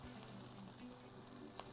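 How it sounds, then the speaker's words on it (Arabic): Pigeon stuffed with marta under the skin frying in hot oil, a steady low sizzle with faint crackle throughout, quiet and continuous with one small pop near the end. "المية طبعا اللي في الحمام لازم تعمل طرطشة"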